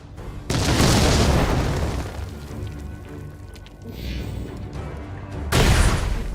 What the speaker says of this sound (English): Heavy artillery coming through.